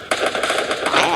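Rapid bursts of automatic gunfire in a desert deathmatch mode of a shooter video game, loud, crackling and continuous for about a second after a sharp start.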